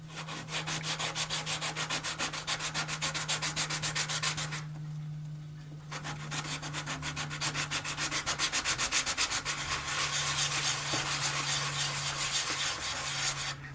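Sandpaper of around 200 to 400 grit rubs in quick, steady back-and-forth strokes across a small model ship part, close and distinct, with a short pause midway before the rhythmic scrubbing resumes.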